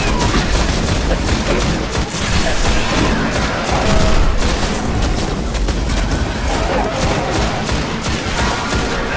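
Dense, nonstop gunfire and booming blasts fill a Destiny firefight, loud and close with overlapping shots and no pause throughout.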